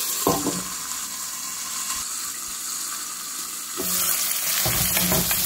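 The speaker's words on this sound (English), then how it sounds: "Keep sautéing till the rinds are cooked well." Watermelon rinds sizzle as they are sautéed in a pan for a curry, a steady close frying hiss broken by scraping stirs and clinks of the spoon, with no talk.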